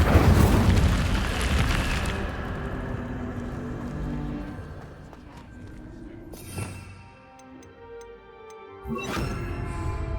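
A fire spell cast in the game Hogwarts Legacy, opening with a loud roaring whoosh that fades over a couple of seconds, followed by quieter magical hums and a few crisp ticking pops.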